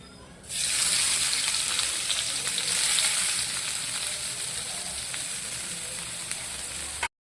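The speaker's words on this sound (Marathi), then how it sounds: "त्याच्यामध्ये आपण कांदा टाकू" Chopped onion hits hot oil with cumin in a kadhai, bursting into a loud, close sizzle that holds steady and then cuts off.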